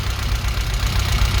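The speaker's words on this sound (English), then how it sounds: "I'm going to leave this car running now for 5 or 10 minutes" A warm 1994 Vauxhall Astra GSi with the red top engine idles slightly lumpy, a close continuous low throb with a faint uneven pulse and no talking.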